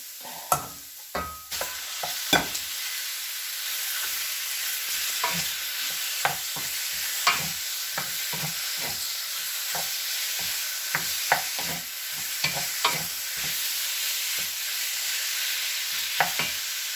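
Pork pieces fry with golden minced garlic in a pan, a steady even sizzle punctuated by regular sharp scrapes and knocks of a utensil stirring, with no talking.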